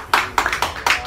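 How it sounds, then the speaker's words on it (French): A church congregation applauds in rhythmic unison: four or five sharp, close claps in quick succession, loud and evenly spaced. "Applaudissons le Seigneur."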